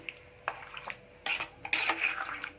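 Spoon stirring chili powder into a pot of vegetable dal sambar, with several separate scraping and clinking strokes against the metal vessel, soft at first and growing louder and busier toward the end.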